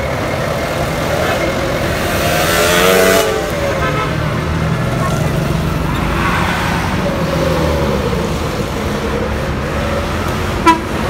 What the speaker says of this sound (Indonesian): Dan melintas satu unit bus Quantran dengan tujuan Pekanbaru